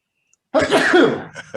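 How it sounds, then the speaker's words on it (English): A single sharp sneeze bursts out after a short silence in an indoor meeting, loud and close, trailing off with a brief breathy follow-up sound. "I'm going to sneeze, excuse me."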